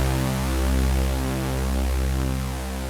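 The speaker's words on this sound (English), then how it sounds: "Now we already have this very nice and fat Moog sound." A fat Moog-style synthesizer note with a long decay and low sustain, a deep, rich bass tone holding and gently throbbing, loud and alone without any voices.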